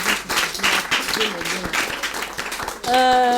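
Audience applause at a French-language reception event, dense clapping through most of the stretch with a voice speaking over it near the end.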